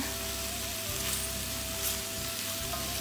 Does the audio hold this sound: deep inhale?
no